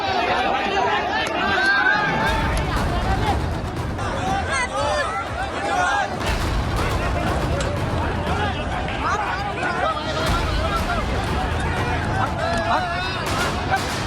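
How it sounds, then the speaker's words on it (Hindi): Dense agitated crowd noise at an Owaisi political rally as people stampede and police charge with batons, a continuous roar of overlapping shouting voices and commotion filling the whole stretch, with scattered sharp knocks and bangs. "रैली में अफरा तफरी, भीड़ हुई बेकाबू"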